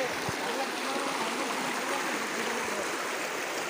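Amli river, a small village stream, flowing as a steady broadband rush of water, close and constant, with faint voices underneath.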